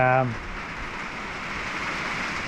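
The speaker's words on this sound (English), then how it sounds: "So now that the rain's coming, I think the wind's died down a little bit" Steady rain falls outside an off-grid self-built home, a broad continuous hiss that fills the clip after a brief voice fragment at the very start.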